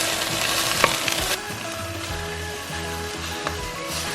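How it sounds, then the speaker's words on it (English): Ground beef and onions sizzle and fry in a pan, a steady crackling hiss with a few stirring scrapes, close and fairly loud, with no talk over it. "you're going to brown the ground beef with and you cook it with the onions"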